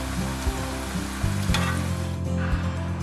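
Cauliflower florets for Gobi Manchurian fry in hot oil with a loud, continuous close sizzle, punctuated by a few dull knocks and a low background hum, with no talking.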